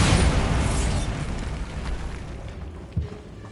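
Bombarda spell explosion in Hogwarts Legacy: a loud, deep, rumbling blast that starts at full strength and slowly fades into a long decay, followed by a smaller thud near the end.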